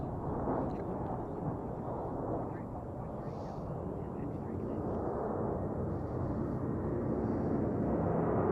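A Southwest jet airliner roars steadily overhead at Denver International Airport, a broad, heavy rumble that holds at full strength throughout without fading.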